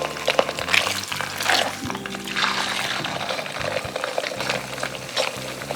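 Pork spare ribs pan-frying in hot oil heated to around 180 degrees, a continuous close sizzle and bubbling with occasional clinks of the pan and utensil.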